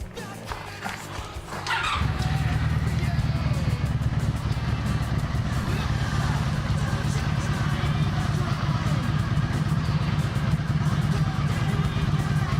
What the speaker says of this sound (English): I'm gonna go ahead and start it up so you guys can hear what I'm talking about